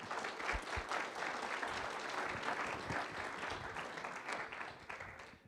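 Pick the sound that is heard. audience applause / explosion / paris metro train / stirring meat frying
audience applause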